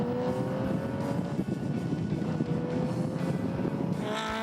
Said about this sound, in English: The orange Porsche leads the yellow Ford Escort round the hairpin, and they power towards the downhill sweeping left-hander